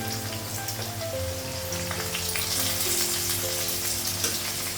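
Green chillies sizzle steadily in a hot pan with a dense, continuous crackle close by, and faint tonal sounds run in the background.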